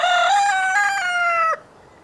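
A rooster crows once near and loud, a long rising-then-held cry that breaks off abruptly, with no talk around it.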